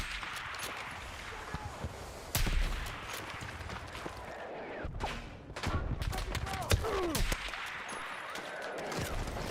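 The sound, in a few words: gunfire in the video game Battlefield 6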